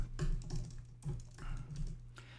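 Quiet keystrokes on a computer keyboard as a terminal command is typed, a few irregular clusters of soft, close clicks over low background hum.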